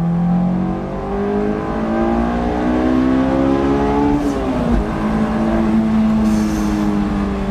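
A Honda S2000 engine climbs steadily toward its redline, the sharp rising wail holding loud and close for several seconds before a quick shift and a renewed pull at high revs.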